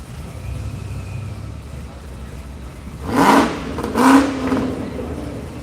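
Acura Integra race car on a track passing twice in quick succession, each pass a loud engine roar that swells and fades, under a commentator's talk.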